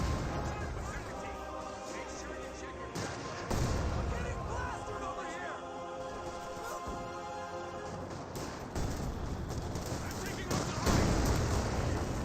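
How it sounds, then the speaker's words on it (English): Sniper rifle fire in Company of Heroes 2, with sharp cracks standing out from a dense battle soundscape of explosions and other gunfire, under steady talk. "Sniper firing away."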